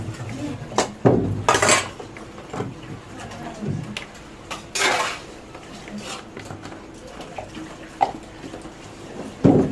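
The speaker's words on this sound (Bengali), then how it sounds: "বাসন মাজা, জল ভরা" Pots, pans and cutlery clatter and clink as dishes are washed by hand, with bursts of running water being filled in between; close and fairly loud.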